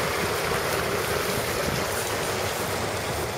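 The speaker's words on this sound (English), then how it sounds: "that water, you can hear it roaring from up from the house there. It's making two little waterfalls" Rain-swollen runoff after heavy spring rain in Elgin, Texas roars over two small eroded waterfalls, a loud, unbroken rushing wash that holds steady throughout with no voices.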